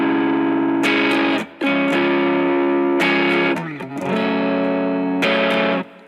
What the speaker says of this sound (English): you may just want to crank up the distortion so it sounds a little bit more